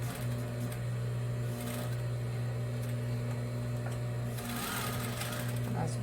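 A sewing machine runs in a steady, humming whir while stitching a Christmas cushion, stopping briefly partway through, with a person talking over it.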